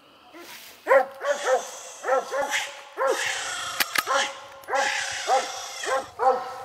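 A coon dog barks repeatedly at a treed raccoon during a night hunt, loud close bursts of bays and yips in uneven clusters, with brief whimpering tones between barks.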